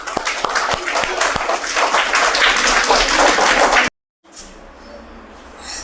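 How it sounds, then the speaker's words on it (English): An audience at a pre-primary school storytelling competition breaks into loud, dense applause for a young child for about four seconds, then it cuts off to a quiet room. "Claps for him."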